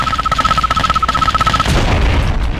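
Rapid rhythmic booming weapon fire from a unit in Command & Conquer: Red Alert 2, with a steady electronic beeping tone, giving way to a dense rumbling burst of explosions.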